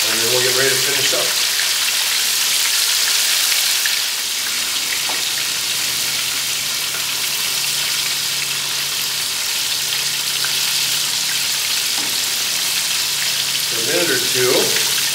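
Spicy chicken strips deep-frying in hot oil, a loud, steady crackling hiss like heavy rain that continues throughout, with brief speech at the start and end.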